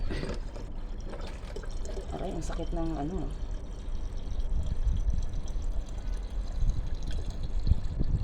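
Water is poured out for washing behind a parking area after days without running water, a close, splashing pour in the first few seconds while a person talks and cries out in pain over it.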